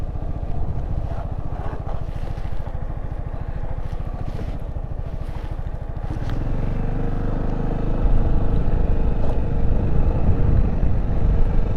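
A learner rider's motorcycle engine drones close and loud with wind buffeting the microphone, its pitch and loudness shifting as the bike slows and comes to a stop, then rising again.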